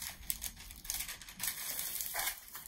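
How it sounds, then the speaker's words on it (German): Paper strip being folded in half while shaping a paper rose for decorating an old vase, with soft crinkling and crumpling rustles close by, a few brighter crackles standing out. "Der Streifen Papier, den halbieren, also so einschlagen."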